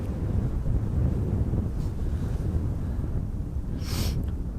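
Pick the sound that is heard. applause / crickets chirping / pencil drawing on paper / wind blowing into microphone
wind blowing into microphone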